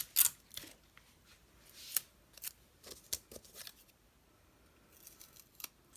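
Adhesive tape handled while decorating Halloween cupcakes with a meringue ghost: a series of close, soft crinkles, rips and snips in irregular bursts, with no talk.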